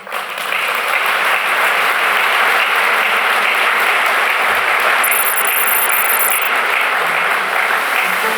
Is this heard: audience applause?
yes